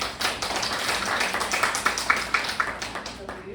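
Applause from a small crowd at a poetry chapbook launch, a patter of claps that grows sharper and more distinct toward the end, with voices murmuring underneath.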